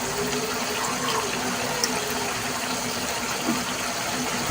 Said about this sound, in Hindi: अब मैं इसके अंदर पानी डाल रही हूँ।